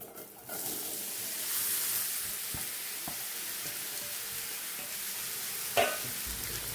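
Cut ridge gourd (gilke) tipped into a hot pan with tomato, setting off a steady broad sizzle that carries throughout, with a few soft stirring knocks and one louder scrape of the spoon near the end.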